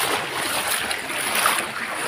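Floodwater rushes around legs while someone wades through a flooded area after rain, a steady, close, broadband wash of moving water with no talking.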